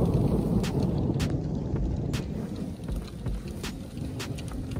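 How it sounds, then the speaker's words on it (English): Low rumbling thunder rolls beneath steady rain noise on a golf course, a broad continuous roar with a few brief sharper cracks scattered through it. "is that thunder?"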